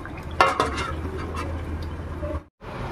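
Lid set back on a pot of mutton simmering on low gas, a short clatter of metal near the start followed by quiet low bubbling, then a brief dropout near the end.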